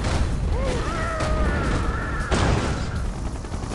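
A unit fires a volley in the Red Alert 2 Yuri's Revenge Allied mission, a dense clatter of gunfire and booming blasts with whistling streaks, loud and sustained throughout.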